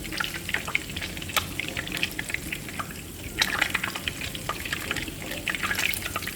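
Hot cooking oil drips and trickles steadily off freshly fried, half-cooked meatballs as they drain, a faint, patchy crackle with scattered small ticks and drops close by, no voices.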